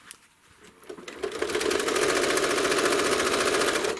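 Home sewing machine stitching through a quilt, starting with a few slow clicks and then ramping into a fast, steady, loud mechanical whir up close, with no voice.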